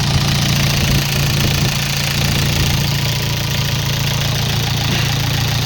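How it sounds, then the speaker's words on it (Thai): A four-cylinder Yanmar YM351A tractor engine runs steadily nearby, a loud, even low chugging rumble with a slight knocking beat and no talk. "เครื่องยนต์สี่สูบค่ะ"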